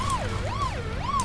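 A wailing siren rises and falls in smooth, regular sweeps from a racing video game with Paw Patrol vehicles, loud and steady over engine-like background noise.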